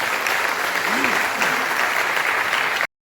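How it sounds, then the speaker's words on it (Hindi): Loud, dense applause from a mushaira audience welcoming the poet Dr. Anu Sapan at an All India Mushaira, sustained and even for about three seconds before cutting off abruptly, with faint voices mixed in. "एक बार जोरदार तालियों से उनका इस्तेकबाल कीजिए।"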